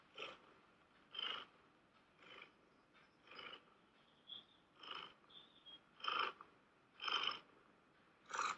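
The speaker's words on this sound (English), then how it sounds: "he's just purring." A Bengal cat purrs close by in soft rhythmic pulses, about nine breathy cycles rising and falling, quiet and alone with no talking.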